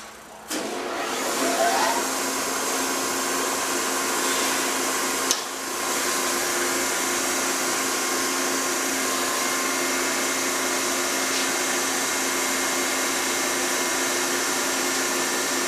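Steady grinding on a gummy weld, a continuous even whine that holds at one level for the whole stretch after a brief start, close and alone without speech.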